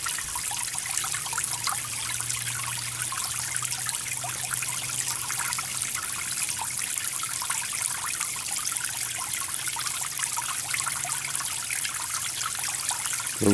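Water trickles and splashes quietly and steadily into a bell siphon standpipe just before overflowing the top, with a faint low hum underneath and no voices.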